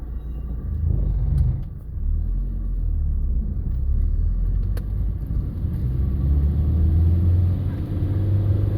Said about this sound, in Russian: Первую передачу и поехали дальше.